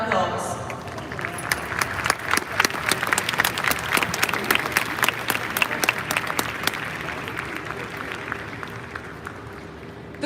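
A graduation audience claps for a staff member in a sustained round of applause, with dense overlapping claps heard up close and some voices mixed in.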